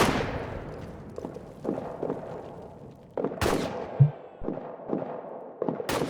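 Gunfire in a trench warfare video game: several sharp broadband shots crack out at irregular intervals over a continuous rumbling battle backdrop, with a dull thud in between and no talk.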